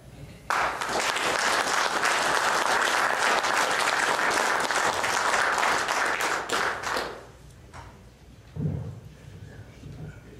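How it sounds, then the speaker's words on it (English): Rousing applause from an evening audience greeting a sheriff's brigade speaker, a dense, loud burst of clapping lasting about seven seconds before cutting off, followed by a brief low thump and quiet room noise. "I'd like you to give a rousing applause to our speaker for tonight"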